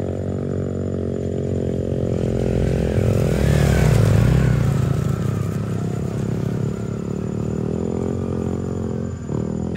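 A motorcycle engine labors steadily on a mountain trail, droning and swelling in effort near the middle, close and loud with some clatter, then a brief knock near the end.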